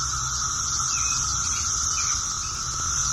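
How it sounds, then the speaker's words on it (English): Massed cicadas in the Santa Susana Hills near Los Angeles buzzing in unison, a continuous steady high-pitched drone with a fainter lower trill beneath, even and unbroken, with no voices. "trillions of little insects all chirping away in unison"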